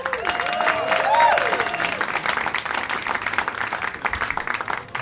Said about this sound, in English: thank you so much for clapping for me